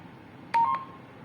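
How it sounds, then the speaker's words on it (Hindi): A Sanchar analog two-way radio sounds a roger beep: one short, clean electronic tone burst, close and clear over a low steady hiss. "इसने एक बीप जनरेट करी जो कि रोजर का एक इंडिकेशन है"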